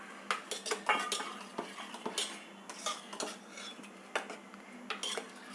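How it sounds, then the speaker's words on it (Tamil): Cooked greens with tomato being mashed in a pot, a busy run of metal clinks, taps and scraping from the utensil against the pot, close and irregular with no talk. "இதை அப்படியே இப்படி கடைஞ்சி விட்டுடலாம்."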